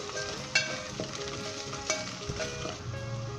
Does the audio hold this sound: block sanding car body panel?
no